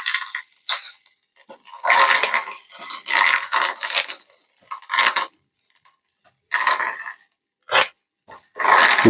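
Hot oil spatters and crackles as fresh, wet rosemary leaves are dropped in to make rosemary oil, coming in irregular loud bursts separated by short quiet gaps.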